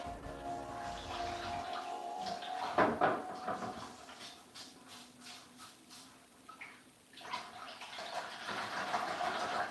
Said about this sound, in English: I'm going to go wash the brush and soak the brush.